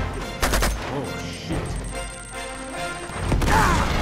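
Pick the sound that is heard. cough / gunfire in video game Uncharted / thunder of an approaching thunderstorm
gunfire in video game Uncharted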